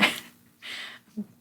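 A single close sneeze with a sharp burst of breath, followed by a short inhale and a small vocal sound, recorded in a quiet podcast room.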